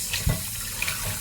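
Tap water runs steadily into a sink while raw chicken is rinsed, making a continuous close hiss with a couple of soft splashes and thuds, and no talk.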